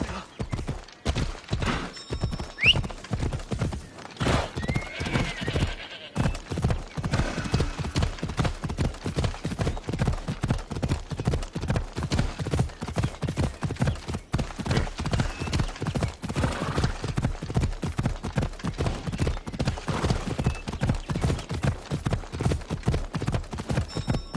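Phobos the horse gallops steadily in Assassin's Creed Odyssey, with loud, close hoofbeats in a fast, continuous clip-clop rhythm, a brief whinny near the start and faint game ambience beneath.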